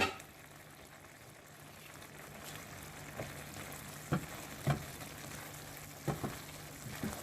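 Okra curry cooks in a pan over a medium flame with a low, steady sizzle, and a few soft stirring clicks and taps from a spoon land near the end.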